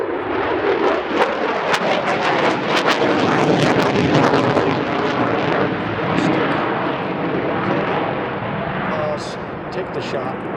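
An F-18 Super Hornet jet flying an airshow demonstration roars loudly and steadily overhead, a broad sustained engine rumble with wind buffeting, easing slightly toward the end.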